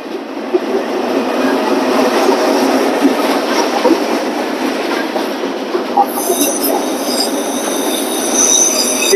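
A freight train rolls past on a CSX trip, a loud, continuous rumble of wheels and rail noise near at hand, with a high squealing edge coming in toward the end.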